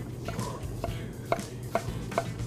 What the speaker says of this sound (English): Just smash those, run the knife through it quick.